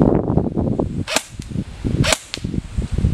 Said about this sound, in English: You have 5 shots with this gun to hit it.